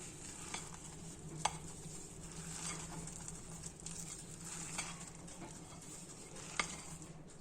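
Grated carrot, 200 grams, being stirred and folded into a flour cake batter in a bowl, giving a soft continuous wet mixing texture broken by a few sharp clicks of the spoon against the bowl.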